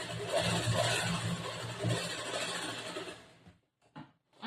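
A sewing machine stitching a cross-cut blouse runs with a dense, fast mechanical rattle, then stops, followed by a couple of short bursts of stitching.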